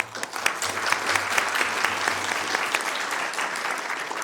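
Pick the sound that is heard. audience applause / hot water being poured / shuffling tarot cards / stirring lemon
audience applause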